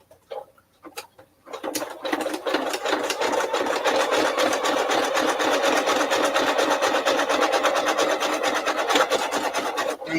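A manual sewing machine starts up after a few soft clicks and then stitches a fat quarter project bag with a zipper. It chatters in a fast, even rhythm that stays close and fairly loud.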